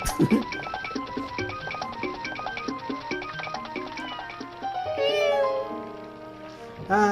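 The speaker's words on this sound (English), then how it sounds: "Kitty cats" Cat meows in The Legend of Zelda: Twilight Princess HD sound over busy, bouncy game music, with a more drawn-out mew near the end.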